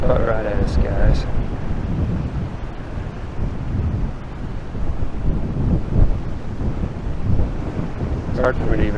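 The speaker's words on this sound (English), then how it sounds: "It's so windy." Strong gusty wind buffets the microphone on an open golf course, producing a loud continuous roar and rumble, with a person's speech partly heard through the wind.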